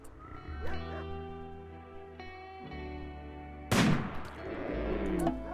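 Colonists fire guns while hunting in RimWorld, with one sharp, loud shot bursting out over steady, tonal game music.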